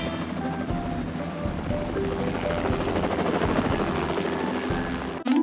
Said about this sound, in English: The helicopter is ready to take off.